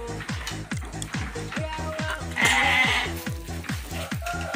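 Sheep on an Indonesian farm bleat repeatedly in quick, overlapping calls, loud and close, with several animals sounding one after another across the whole stretch.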